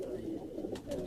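Pigeons coo softly on a rooftop loft in Quetta, a brief low burbling call with some faint background voices.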